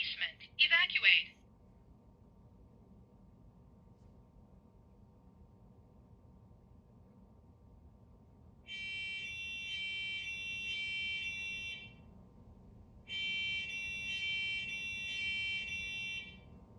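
A new First Alert smoke alarm sounds during a test: two bursts of rapid, shrill, pulsing beeps, each lasting a few seconds, close and steady over a low hum, with a short electronic chirp at the very start.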